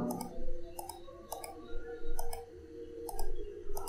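A computer mouse clicks while someone works on a PowerPoint slide. Short, sharp double clicks come in a regular pattern, about every half second, close and fairly clear over a low background hum.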